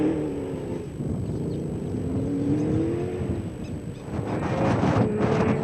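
An RFS Treasury 1 BMW X3 rally car racing through the desert in the Gold 450, its engine droning and rising steadily under heavy wind noise, revving harder toward the end.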